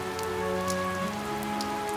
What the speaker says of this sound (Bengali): অথচ বৃষ্টি থামার নামই নেই।